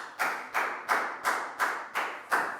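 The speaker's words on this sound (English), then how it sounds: "a big round of applause" A handful of children in a primary-school maths class clap in rhythm, seven crisp, evenly spaced bursts close to the microphone with no talk over them.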